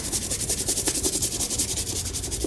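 Brisk brush scrubbing on the sides of Dr Martens leather boots, a steady rapid back-and-forth rasp repeating close up with no talking.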